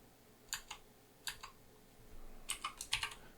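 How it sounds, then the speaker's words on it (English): Short bursts of typing on a computer keyboard, close but quiet, a few scattered keystrokes followed by a quicker cluster of clicks in a quiet room. "which you can just type in"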